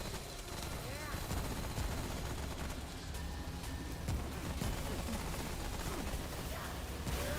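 Gunfire in the video game Remnant: From the Ashes, a dense, continuous barrage of shots blended with loud battle noise and a busy background, with no clear gaps.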